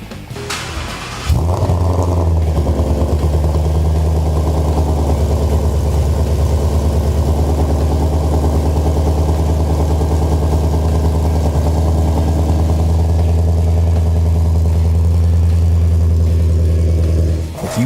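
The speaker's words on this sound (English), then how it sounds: "just listen to the difference in the stock exhaust note and that of the Kooks" A 2015+ Ford Mustang with an aftermarket Kooks exhaust starts up and settles into a loud, steady, deep idle rumble close by, running evenly for about sixteen seconds before cutting off.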